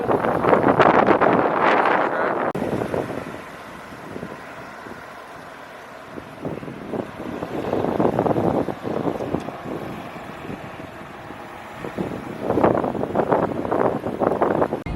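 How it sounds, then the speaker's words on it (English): Strong outdoor wind buffets the microphone in loud, rumbling gusts near a theme park construction site, swelling and fading in waves with quieter lulls between. "Very windy out right now"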